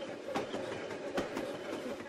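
A train passing in the game Bad Way, a steady rumbling roll with rhythmic clacking beats repeating a few times a second, moderately loud, with a voice faintly present underneath.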